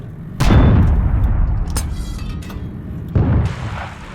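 Tank cannon fire in the Steel Aces video game, including a Jagd Panther, heard as two heavy booming shots with long rumbling tails, one early and a second about three seconds later, loud and with no talk.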